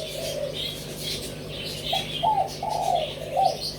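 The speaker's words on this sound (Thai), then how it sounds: "นกเพศผู้นะครับเพศผู้ร้อยเปอร์เซ็นต์" Male spotted dove, a wild-blood bird bred in captivity, gives a short series of soft, low coos in a steady rhythm, heard close over faint background chirps from other birds.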